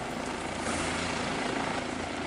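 Steady, loud helicopter rotor and engine drone on a flight to the Kedarnath pilgrimage site in the Himalayas, continuous and close throughout with no voices.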